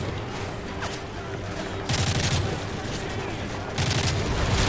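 Bursts of distant gunfire from Call of Duty: Modern Warfare 3 pop over a steady low battlefield rumble, with two louder flurries standing out near the middle and end.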